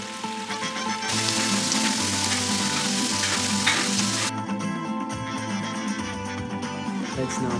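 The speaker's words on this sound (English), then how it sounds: "Turn the stove to medium high and let's start frying this seasoned pork" Seasoned pork sizzles and crackles steadily in a hot pan on medium-high heat, a dense continuous frying hiss with occasional stirring, close by.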